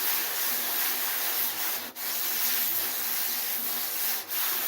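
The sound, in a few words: sanding Tlingit hoop drum hide with 200 grit sandpaper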